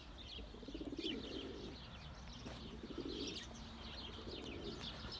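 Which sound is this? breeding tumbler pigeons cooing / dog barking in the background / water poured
breeding tumbler pigeons cooing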